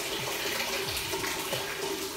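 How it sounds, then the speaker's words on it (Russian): Boiling water poured into an ordinary plastic bucket that already holds water: a steady, close, continuous gushing splash throughout, with no talking. "Сейчас я долью еще воды. Прямо берем кипяток,"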